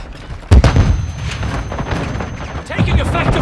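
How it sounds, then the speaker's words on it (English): Gunfire in the Call of Duty: Modern Warfare II video game: one loud, sharp blast followed by scattered distant shots and a rumbling battle din, with voices talking over it. "Taking effective fire!"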